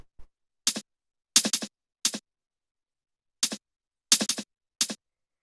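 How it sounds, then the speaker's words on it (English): Chopped drum and bass breakbeat percussion, short dry hits in small syncopated clusters separated by silence, crisp and upfront with no voice. "the last percussion we have here are these little break traps"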